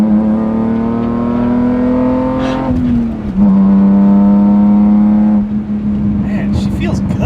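A BMW E36 M3 engine pulls hard under acceleration, a loud steady drone rising slightly in pitch, dipping briefly at a gear change, then holding strong, heard from inside the car.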